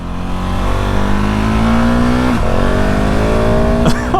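A 2019 KTM 690 SMC R supermoto motorcycle accelerating hard, its single-cylinder engine note climbing steadily through the gears in a loud, continuous pull with a brief shift break midway, heard alone without talk.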